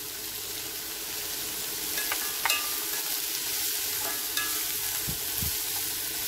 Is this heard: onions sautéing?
yes